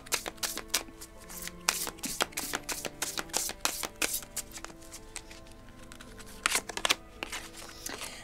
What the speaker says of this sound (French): on va recouvrir avec l'oracle lumière de Lise Bartoli